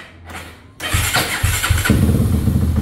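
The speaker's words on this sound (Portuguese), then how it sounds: "Dá uma partida pra galera ver aí" A Honda Twister motorcycle modified to 380cc starts after a brief crank, its engine catching abruptly and then running loud and close with uneven, throbbing pulses.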